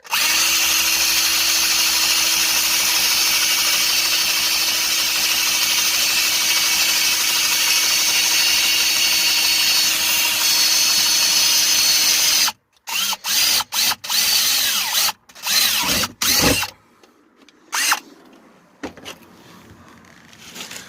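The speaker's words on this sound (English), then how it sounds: "So we're just gonna take the drill" A power drill whines loudly and steadily for about twelve seconds, then drills in short, stop-start bursts with pauses between, boring drain holes into a car trunk holding water.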